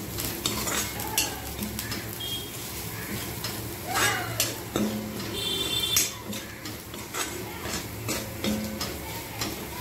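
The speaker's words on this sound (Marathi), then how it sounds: "आता तेलामध्येच आपल्याला मसाले घालायचे आहेत।" Chilli powder, garam masala and ground coriander stirred into hot oil with a spoon while beetroot sabzi is cooked: soft sizzling under repeated scraping and clinking of a utensil against the pan, close and moderately loud.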